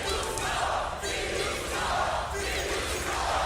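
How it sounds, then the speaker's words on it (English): A large esports arena crowd at a Counter-Strike: Global Offensive tournament match roars and chants in rising and falling waves, loud and dense, with no distinct voices standing out. "I think the crowd is letting us know who their favorites are right now"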